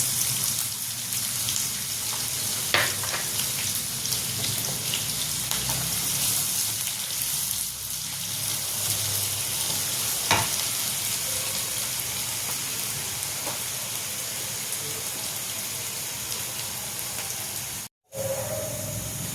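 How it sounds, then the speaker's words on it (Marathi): Onion frying hard in hot oil over a full gas flame for zunka: a steady, loud crackling hiss with scattered pops that runs nearly unbroken throughout, with a brief cut of silence near the end and no voices. "तेल कडकड द्यायचं आणि हा कांदा मग त्याच्यामध्ये टाकायचा फुल गॅस करायचा"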